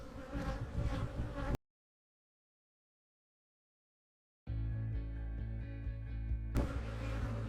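Bees in a hive colony where new bees are emerging give off a close, dense buzzing hum, broken by a sudden stretch of complete silence before the buzzing returns just as loud.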